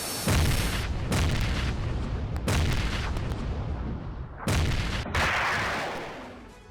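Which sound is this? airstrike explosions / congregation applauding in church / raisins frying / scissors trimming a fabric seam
airstrike explosions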